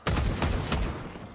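A short burst of rapid gunfire in the tactical shooter Valorant during a G2 Esports versus Team Heretics professional match at Masters Shanghai, three or four sharp loud shots in quick succession with a fading tail.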